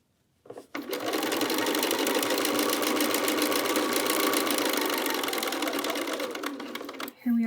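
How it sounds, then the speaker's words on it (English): A sewing machine runs in one continuous burst of rapid stitching along the binding of a quilted jacket, a close, steady mechanical whir that starts abruptly and stops after several seconds, with a voice briefly heard at the end. "And keep sewing."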